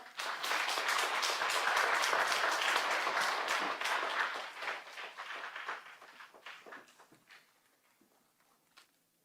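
Sustained applause from a church audience welcoming a pastor, loud and dense at first, then thinning into scattered claps that fade out toward the end.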